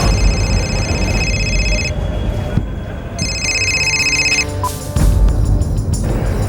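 A telephone bell rings in repeated bursts, loud and close, under a tense crime drama scene with dramatic background music and rumbling ambience.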